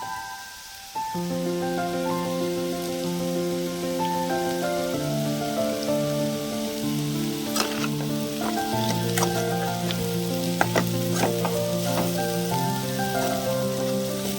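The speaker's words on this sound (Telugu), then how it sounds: "ఇంకొక నిమిషం ఇలానే ఫ్రై చేసేసి లాస్ట్కి కారం యాడ్ చేద్దామండి" Small-cut potato pieces frying in oil in a village kitchen, a continuous rain-like sizzle with occasional sharp pops, under steady background music.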